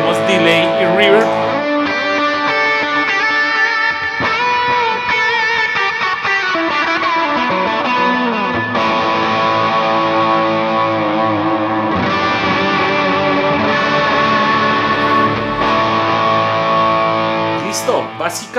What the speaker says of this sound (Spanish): Prendemos delay y reverb.